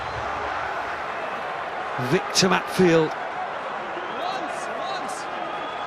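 A rugby stadium crowd at Kings Park in South Africa roars steadily in the background during the closing minutes of a Springboks versus Wales test match, with a commentator talking over it.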